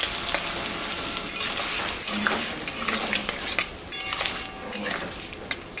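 Sesame and mustard paste stirred into a simmering fish curry in a pan, a spoon scraping and clinking against metal over a soft, steady sizzle, close by with no talk.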